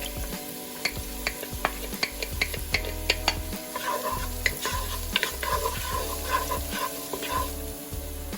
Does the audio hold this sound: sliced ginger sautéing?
yes